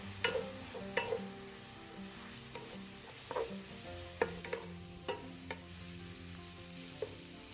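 Steady sizzling of meat frying in a pan with salt, black pepper and turmeric, with a utensil scraping and clinking as it's stirred at irregular intervals.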